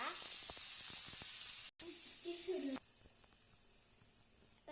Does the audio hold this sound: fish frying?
yes